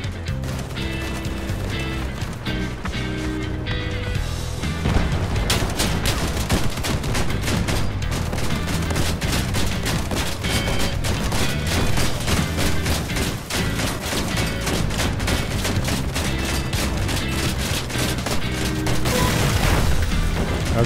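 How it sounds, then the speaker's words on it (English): Explosives blasting an energy tower during a Crossout vehicle-combat raid: a dense, continuous barrage of booms and gunfire-like bursts rolls on at steady loudness under thick game music, with no speech. "you're using those explosives to destroy energy towers"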